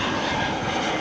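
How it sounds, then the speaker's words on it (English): Airplanes descending toward Lanzarote airport produce a steady, loud engine roar, a broad rushing drone that holds without breaks through the short moment. "look, the planes are coming in there"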